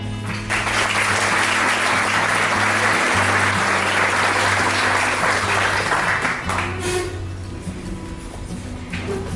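Sustained crowd applause at the Kentucky Bourbon Hall of Fame 2018 induction ceremony, greeting filmmaker AJ Hohalter; dense, steady clapping from a large audience fills the room for about nine seconds, easing slightly near the end, with no talking over it.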